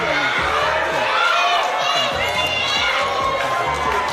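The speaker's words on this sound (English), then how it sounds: "I don't think the crowd are too happy with these guys either." A boxing crowd roars and shouts steadily throughout a bout, a dense, loud wall of overlapping voices with cheering swells and no single voice standing out.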